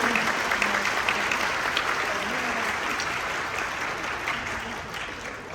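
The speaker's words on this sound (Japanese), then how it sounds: "新課長の方に大きな拍手をお願いしま" A ceremony audience applauds a newly appointed section manager at a company's 25th-anniversary event. Sustained, close clapping slowly tapers over several seconds, with faint voices underneath.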